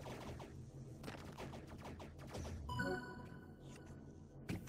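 Spaceships in the virtual reality game Gods of Gravity on Quest 2 fire in rapid bursts of sharp, crackling laser-like shots. A descending tonal zap follows, all at moderate volume.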